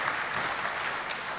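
An audience at a mushaira claps in dense, steady applause that fills the hall, welcoming a visiting poet from Pakistan.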